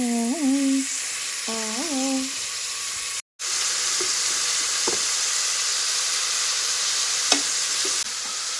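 Chicken curry sizzles in hot oil in a pressure cooker pot as it is stirred, a close, steady frying hiss with occasional scraping clinks, broken by a brief silence after some tonal beeps at the start.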